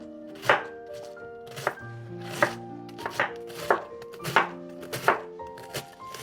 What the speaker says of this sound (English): I'm also just going to thinly slice this cabbage